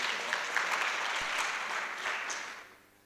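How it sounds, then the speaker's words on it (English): Members of a youth parliament session applaud in the legislature chamber, a broad burst of clapping that holds steady before thinning and fading out toward the end. "Let's give a big round of applause to them."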